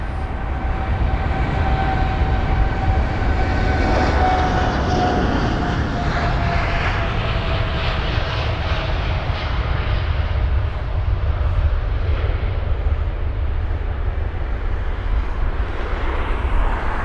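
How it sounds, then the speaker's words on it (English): A United Boeing 787-9 Dreamliner thunders down the runway on takeoff, a steady broad engine roar with a rising whine, heard from a distance and holding loud throughout. "It's the 787-9 Dreamliner."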